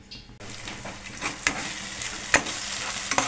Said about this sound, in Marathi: पेस्ट आपण टाकून घेतली आता ह्याच्यात कढईमध्ये आणि तेल सुटेपर्यंत भाजून घेणार आहे परत एकदा